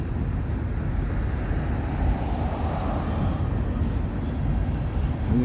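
A CSX freight train rolls past in Teaneck, New Jersey, giving a steady, loud low rumble that holds evenly throughout, with no voices.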